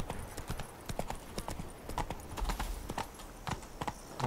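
Roach, Geralt's horse in The Witcher 3: Blood and Wine, galloping with a rapid steady clip-clop of hooves, close and continuous throughout.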